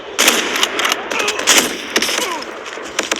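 Rapid bursts of gunfire crackle in a video game shootout, loud and close, with sharp repeated shots clustered in quick volleys and short gaps between them.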